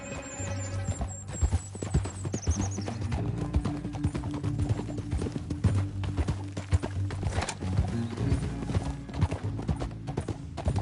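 Galloping horse hooves in Red Dead Redemption 2, a continuous rapid clip-clop rhythm with a low steady drone beneath and an occasional whinny, sustained and fairly close for the whole stretch.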